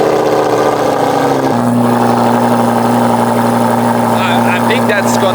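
A Lamborghini Huracan EVO idles loud and close at the Nürburgring, a deep steady drone that drops to a lower, settled pitch partway through.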